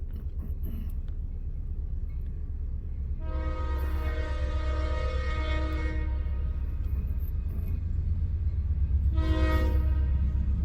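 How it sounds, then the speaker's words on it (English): A heavy empty coal train rumbles past steadily in Greenwich, Ohio, and its loud horn sounds twice, first a long blast and then a shorter one. "Another coke train."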